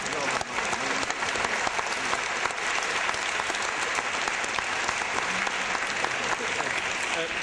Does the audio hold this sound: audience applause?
yes